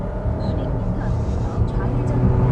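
Volvo XC90 D5 SUV pulling away from a standstill, a steady low engine drone and road rumble heard from inside the cabin, holding level throughout with a faint speaking voice underneath.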